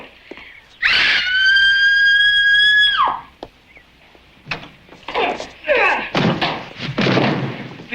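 A loud, sustained high-pitched scream rings out for about two seconds, then cuts off; excited voices and bumping noises follow.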